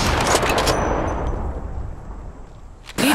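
Incoming gunfire in the battle royale game Apex Legends: a burst of rapid, loud shots at the start that fades into a ringing hum, then another sharp hit near the end.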